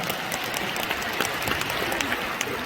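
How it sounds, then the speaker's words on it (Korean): Loud, sustained applause from a large audience in a gymnasium after a vocal performance, dense clapping filling the hall without pause, no voices. "다시 한번 큰 박수 보내주시기 바랍니다."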